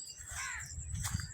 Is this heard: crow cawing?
yes